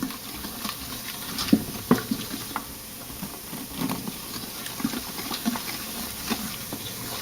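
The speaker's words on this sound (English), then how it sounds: "now I'm going to start adding the flour, and you add a little bit at a time. And you start just stirring that in there" A spoon stirs flour into a roux in a pot, giving soft scraping and pattering with a faint background hiss and scattered light knocks against the pot.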